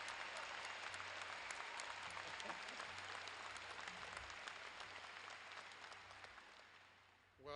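Sustained applause from a commencement audience, a dense, even wash of clapping heard from a distance that slowly fades toward the end before a brief sound at the very close.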